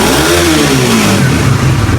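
A 2024 Suzuki Raider 150 FI sports edition motorcycle engine revs hard toward high RPM, a loud, close, continuous rising whine that climbs and holds near the limiter.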